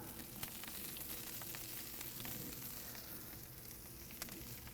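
Brussels sprouts with onions on top charring in a hot skillet give a steady, dense sizzle with a few sharp crackles, loud and continuous throughout with no voices.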